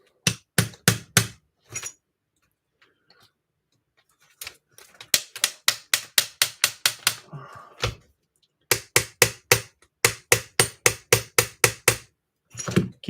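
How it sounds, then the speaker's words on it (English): A 3-pound hammer pounds a hinge pin into place in quick bursts of sharp, close metallic blows, with short pauses between the runs of strikes. "Should probably go get my 3-pound hammer out of my truck."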